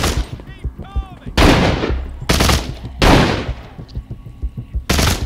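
Bursts of gunfire from an armed group in the Walking Dead VR video game, several loud broadband volleys recurring every second or so, with softer rustling and faint tonal sounds in between.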